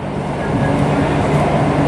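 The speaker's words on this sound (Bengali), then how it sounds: "এখন দেখতে পাচ্ছেন আমাদের ট্রেনটা চালু হয়ে গেছে এখন ধর্মতলার দিকে ছুটে চলেছে" A Howrah–Sealdah metro train runs toward Esplanade with a loud, steady underground rumble and a low hum from the carriage, heard from inside.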